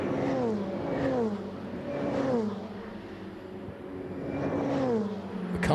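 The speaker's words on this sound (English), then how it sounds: "The car sounds absolutely awesome as they go past our camera position." Ferrari 488 Challenge race cars of the Trofeo Pirelli class at Imola roar past the trackside one after another, each engine note rising then sweeping down in pitch as it goes by, loud and close.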